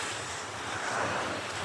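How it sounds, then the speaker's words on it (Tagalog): Ocean waves washing onto the rocky shore at Boulder Bay, a continuous soft roar of surf mixed with breezy wind buffeting the microphone, steady and moderately distant with no talk. "Kita niyo yung hampas ng mga alon"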